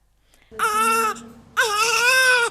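A newborn infant cries loudly right after birth, two strong wailing bursts separated by a short gasp, close and clear with nothing else heard.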